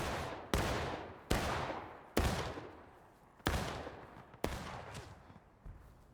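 Musket volleys ring out in the Civil War game War of Rights, six or seven loud, sharp reports spaced about a second apart, each trailing off in a long rumbling echo across a wooded battlefield, with no talking.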